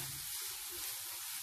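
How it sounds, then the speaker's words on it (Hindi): Chicken and noodle samosa filling hisses and crackles in a hot pan, a soft, continuous frying sizzle close up with a faint stir. "हम इसे 1 मिनट अच्छे से फ्राई कर लेंगे"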